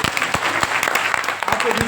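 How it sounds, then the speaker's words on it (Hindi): A training-event audience claps loudly and continuously, a dense close burst of applause with a voice briefly heard over it. "दमदार तालियां होनी चाहिए"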